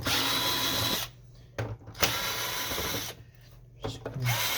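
Screws come out of an HP Officejet Pro 6830 printer being taken apart as a power drill whirs in loud bursts of about a second, separated by short pauses with faint clicks.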